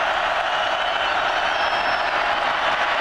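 Stadium crowd at a 2009 college football game between Colorado and Kansas, a steady, dense roar of cheering fans filling the whole stretch at an even, loud level.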